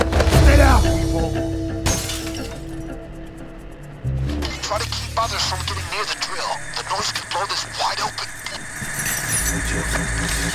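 Glass shatters loudly several times amid a chaotic Payday 2 heist scene, with shouting voices, clattering debris and a steady drill hum underneath.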